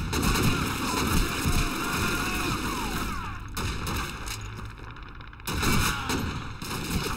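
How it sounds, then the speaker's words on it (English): Machine gun fire rattles through the battle soundscape of the World War II shooter Call of Duty 2, with dense overlapping bursts and a brief lull near the middle. "He's on the machine gun."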